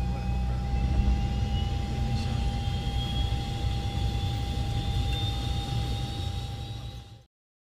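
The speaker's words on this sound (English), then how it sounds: "Suddenly, a jet fighter appears next to you." A jet fighter flying alongside an airliner, heard as a steady, loud broad roar with a faint whine that cuts off abruptly at the end.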